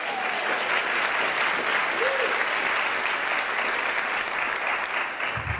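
Audience applause at a public safety conversation event, steady and fairly loud clapping from a sizable crowd sustained throughout with no talk over it.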